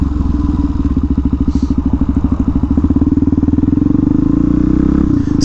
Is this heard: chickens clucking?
no